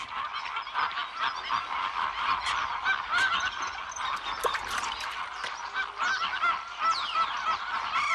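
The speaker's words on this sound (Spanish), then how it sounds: "para contemplar a los bellísimos flamencos rosados" Flock of greater flamingos calling at a drying marsh lagoon in Doñana, a dense continuous chorus of goose-like honks and gabbling from many birds at mid distance.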